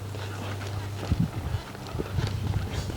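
A stiff mare shifts her hindquarters as she is moved around during a riding session, her hooves giving a few scattered, irregular thuds and scuffs close by over a steady low hum.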